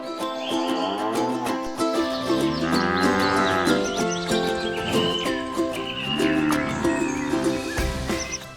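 Cattle on an Australian cattle farm moo loudly and repeatedly, long drawn-out calls from several animals overlapping close by, with no talk.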